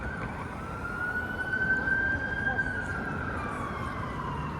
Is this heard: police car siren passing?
yes